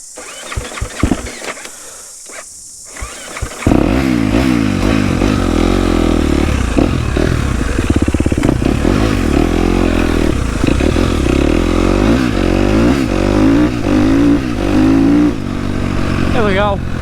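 A Husqvarna FC250 dirt bike cranks briefly, then its engine catches and runs loud and steady nearby, with a short voice heard before it starts.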